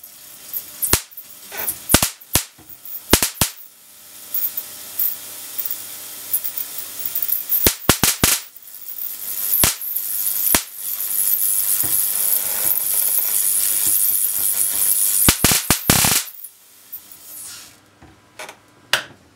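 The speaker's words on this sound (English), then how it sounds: "There are some sparks." Sharp electric sparks from a 150kV voltage multiplier crack and snap in irregular bursts, some loud and clustered, over a steady sizzling hiss of corona discharge.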